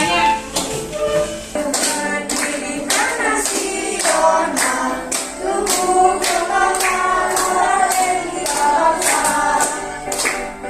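Standing students clap in rhythm in a classroom, a steady run of sharp claps roughly twice a second, close and loud, with voices singing or chanting together over it.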